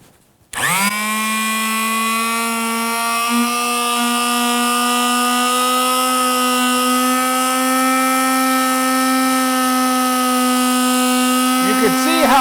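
An electric multi-tool fitted with a polishing pad starts up suddenly and runs as a steady, loud, close whine against aluminum trim, holding its pitch with a slight rise before easing off near the end.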